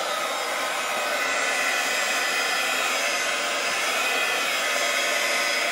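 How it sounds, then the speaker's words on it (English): A heat tool blows steadily and loudly while heat-setting ink on a handmade card, one continuous even airy whir with no pauses and no talking. "And then quickly just heat set that."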